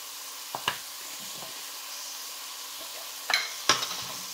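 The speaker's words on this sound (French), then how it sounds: "je mélange le tout" A spoon stirs minced chicken filling seasoned with salt, Espelette pepper and curry, made for stuffed msemen, giving a few soft scraping clinks over a quiet hiss of cooking.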